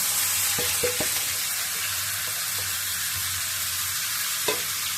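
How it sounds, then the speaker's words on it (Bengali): Spices for pulao rice frying in hot oil, producing a steady, close sizzle throughout with a few soft clinks and stirring knocks from a utensil. "প্রথমে আমি এগুলো তেলে ছেড়ে দিই।"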